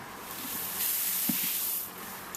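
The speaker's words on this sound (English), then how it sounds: "First kilo of the pale malt to go into the mash tun, and I'm just going to literally" Pale malt grain is tipped into a home-brewing mash tun, a soft rushing hiss of pouring kernels that swells for about a second with a faint knock, then tapers off.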